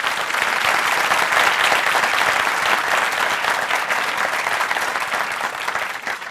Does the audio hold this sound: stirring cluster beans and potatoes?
no